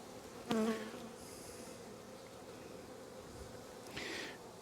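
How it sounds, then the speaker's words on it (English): Honeybees buzz around a hive in soft, intermittent bursts, a couple of them passing close by against a quiet outdoor background. "And there's a lot of bees here,"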